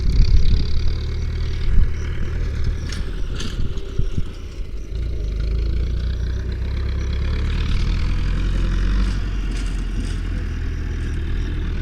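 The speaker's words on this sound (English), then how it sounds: "we just wait for this tractor to pass." A tractor's heavy, low engine rumbles close by and steadily for several seconds, a loud, continuous drone with mechanical rattle as it passes.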